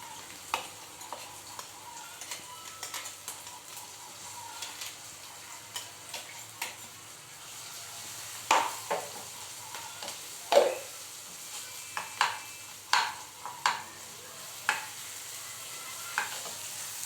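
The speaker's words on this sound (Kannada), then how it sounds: "ಎಣ್ಣೆಗೆ ಮೆಣಸಿನ್ಕಾಯಿ ಫ್ರೈ ಆಗುತ್ತೆ" Green chilies and mustard seeds fry in hot oil for a tempering, giving a quiet, continuous sizzle dotted with scattered sharp pops and clicks, with no talking.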